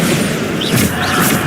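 A loud explosion from the Bombarda spell in the Hogwarts Legacy video game booms in a dense, roaring burst amid ongoing game noise.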